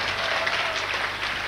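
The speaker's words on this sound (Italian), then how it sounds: "Volete fare un applauso?" A short burst of audience applause at an outdoor touring carnival show in Niella Belbo, dense clapping at an even level throughout.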